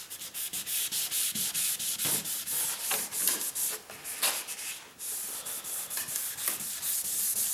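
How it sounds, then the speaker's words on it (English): A sanding pad rubs back and forth across a car headlight, giving a rhythmic, close, hissing scrape in quick repeated strokes with brief pauses. "I could actually take the sand pad off too and do it right up against the edge."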